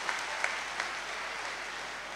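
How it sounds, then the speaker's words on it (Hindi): Applause from an audience, a steady wash of many hands clapping with a few sharper claps standing out near the start. "एक बार जोरदार तालियों से आप उनका स्वागत करें।"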